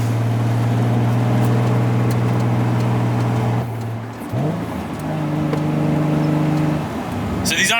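A Mazda Miata drives past on a road, a steady engine drone close by that dips midway and then picks up again, with faint background noise and no speech.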